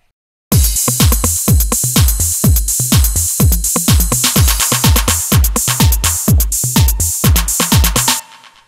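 Punchy kick drums thump in a steady four-on-the-floor beat while crisp claps hit faster and faster, building up before cutting off.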